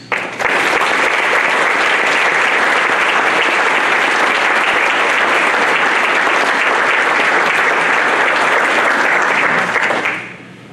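A large audience claps steadily and loudly for about ten seconds at the 2023 Allegheny Athletics Hall of Fame ceremony, honoring the inductees before the applause fades out abruptly.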